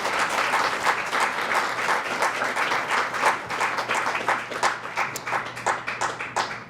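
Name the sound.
audience applause for scholarship recipient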